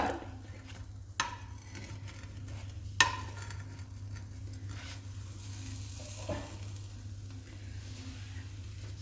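A flapjack sizzles quietly in a frying pan after being flipped, soft steady frying hiss with a few utensil clicks and scrapes, faint and close, no voices.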